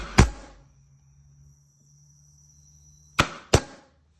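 A sharp bang from a pneumatic nail gun while framing, a few seconds of faint hum, then two more quick bangs close together, fired close by.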